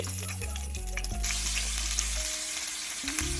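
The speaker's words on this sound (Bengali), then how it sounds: "এখানে আমি কিন্তু প্রথমে মাছগুলাকে হালকা বেজে নিচ্ছি" Small jatka hilsa fish being lightly fried in hot oil, a loud, close, steady sizzle with faint stirring and no talk.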